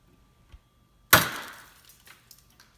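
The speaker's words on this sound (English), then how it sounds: "Now let's see what happens when we snap this little glass hair off." A glass drop formed from molten glass bursts apart when its thin tail is snapped: one sudden, loud, sharp crack followed by a fading spray of tinkling fragments, alone in a quiet room.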